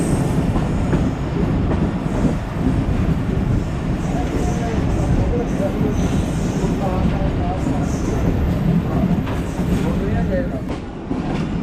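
A passenger train on the Lahore to Multan line runs loud and close, with a steady heavy rumble, wheel clatter and occasional metallic squeal throughout.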